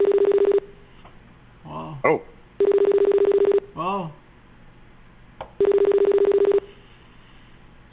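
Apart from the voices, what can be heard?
telephone ringtone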